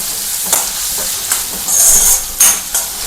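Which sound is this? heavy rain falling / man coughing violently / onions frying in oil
onions frying in oil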